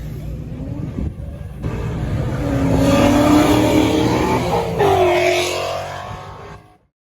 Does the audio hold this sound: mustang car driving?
yes